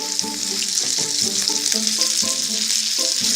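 Fried risotto crisping in a pan gives a dense, constant sizzle, loud and close, with no talking over it.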